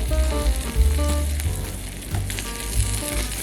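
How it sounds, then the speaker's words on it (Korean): Beef with chipotle seasoning sizzles and crackles in a hot pan, a close, continuous frying hiss with stirring clatter and no voices. "지글지글."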